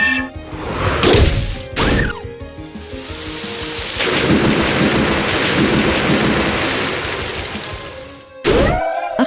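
A thunderstorm spell effect from the video game Manamon, with loud rolling thunder and a sustained rain-like roar spanning most of the clip, broken by sharp cracking strikes near the start and end.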